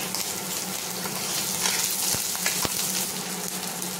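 Neem flowers fry in hot mustard oil in a village kitchen, giving a steady, close sizzle with bright crackles. A few sharp pops and stirring sounds break through the hiss, and no one speaks.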